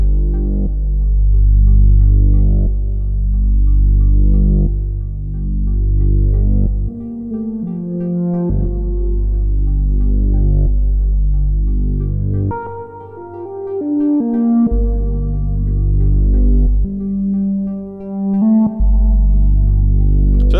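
Arturia PolyBrute synthesizer playing a sustained chordal patch with wide chorus, stereo spread and reverb, lush tones shifting between held chords, loud and alone.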